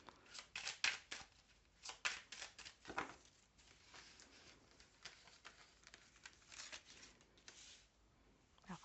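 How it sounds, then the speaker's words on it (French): Tarot cards are reshuffled for a nine-card spread, giving soft, close riffling and sliding bursts, busiest in the first few seconds and then lighter and sparser. No one speaks. "je remélange et on fait un tirage à 9 cartes"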